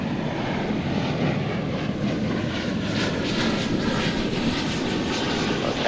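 American Airlines flight 1754 taking off on runway 18 Left at DFW Airport, a steady loud jet engine roar sustained throughout without voices.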